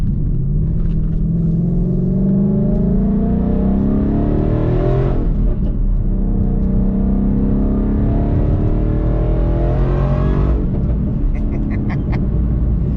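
A 2017 Roush Stage 3 Mustang with a manual gearbox rumbles steadily while driving, rising in pitch through two gears with a brief dip at each shift, loud and continuous with no voices.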